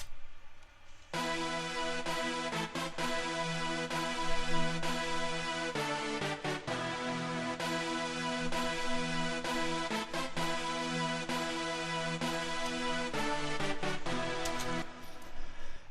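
Techno remix of the middle section of a Zelda theme, a dense steady synth arrangement with repeating melodic notes and a constant beat, playing alone at moderate level throughout.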